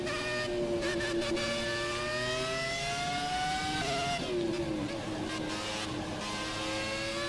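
A Formula 1 car engine in the F1 2017 racing game at Belgium holds a loud, steady high-pitched whine with shifting revs, rising and dipping as the car runs, continuous throughout.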